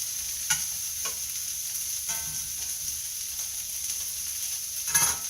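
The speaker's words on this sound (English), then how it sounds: "And you can hear that sizzling." Soft, steady sizzling of sausage hash and eggs frying in a pan, with occasional light scraping and stirring clicks scattered through.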